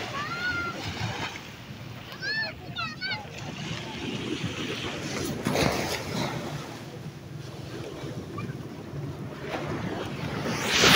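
Surf washing in at Tanawan Beach, a steady broadband roar with wind buffeting the microphone, heard up close and continuous while a person speaks briefly.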